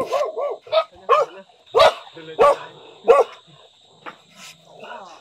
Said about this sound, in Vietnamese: Ở nhà chó to đấy nhỉ?